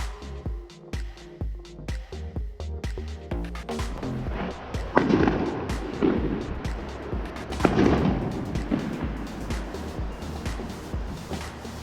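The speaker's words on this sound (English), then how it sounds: "That sounded like fireworks." Rapid, irregular bangs and pops of fireworks going off at a distance on Chicago's South Side in early July, some louder blasts mixed with crackling, continuing for several seconds without talk.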